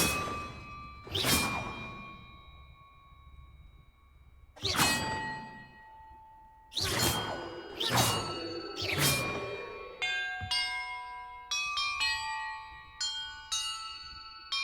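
Bells ringing in Hogwarts Legacy: several loud, resonant metallic clangs struck one after another with long ringing decays, followed by a quicker run of lighter chiming tones near the end.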